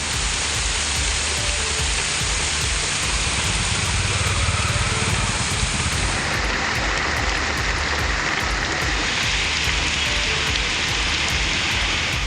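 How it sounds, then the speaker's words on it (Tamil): Heavy rain pours steadily over Madurai, a dense continuous hiss that stays loud and even throughout with no voices. "மதுரையில் கொட்டி தீர்த்த கனமழையால் தாழ்வான பகுதிகளில் மழைநீர் தேங்கி குளம் போல காட்சியளித்தது"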